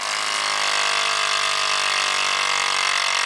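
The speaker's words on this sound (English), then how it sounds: "Let's just see if the pump is more efficient and if it can pull the throttle in faster." Electric pump pulling the throttle for cruise control on an abandoned Audi turbo, a steady close whirring drone with a faint rising pitch.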